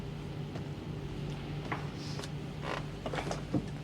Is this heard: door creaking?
yes